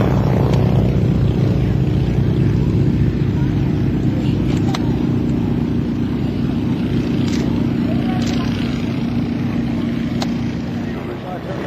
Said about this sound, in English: Harlan DeVezi in the PT-23, which is a Fairchild airplane, but it has a radial engine in it